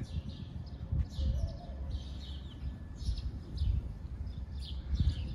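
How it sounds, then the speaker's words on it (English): Faint birdsong outdoors at a retreat house by the Sea of Galilee, with scattered high chirps and tweets over a low, soft background rumble, some calls repeating at intervals. "Listen to the birds real quick."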